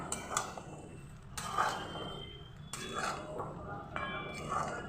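Mutton being stirred with mutton stock and a spice paste in a pot, with a ladle clinking and scraping against the pot in several strokes over a soft simmering background.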